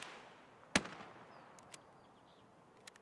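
A single sharp Mosin rifle shot cracks out in Escape from Tarkov, a sudden loud report followed by a short fading tail, with a few faint clicks and thumps afterward in a quiet background.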